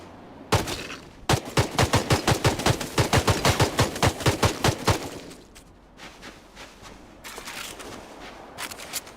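Rapid video-game gunfire, a long burst of evenly spaced loud shots aimed at a man, then a pause and softer scattered rumbling and shuffling noise afterward.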